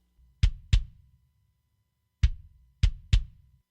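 An uncompressed kick drum sounds alone in a short pattern of five hits, a quick pair, a pause, then three more, each a clean thump with a brief tail.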